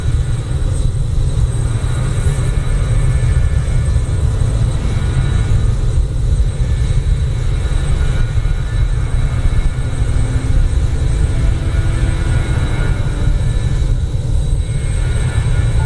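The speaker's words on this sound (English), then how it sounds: "the Avro RJ-146, yeah, it's an aircraft that's pretty easy to put based on my experience in the simulator" Jet engines of an Avro RJ-146 airliner in Microsoft Flight Simulator give a loud, steady roar with a deep rumble and thin high whine, unchanging for the whole stretch, with no voices.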